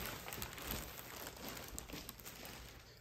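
Packaging crinkles and rustles steadily while a Rotimatic Plus roti-making machine is lifted out of its box and plastic wrap, close and faint, with no talk.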